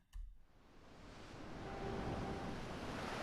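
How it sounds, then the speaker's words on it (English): Ocean waves wash in as a broad, rushing roar that builds steadily and grows louder toward the end. A soft thump comes just before it, and no voices are heard. "So I've got an ocean sound that's going to play at the beginning of this Odysseus theme."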